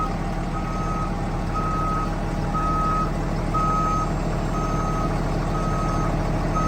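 Steady reversing-style warning beeps repeat about once a second over a constant truck engine idle as the boom on a forestry bucket truck with about 123,000 miles is raised.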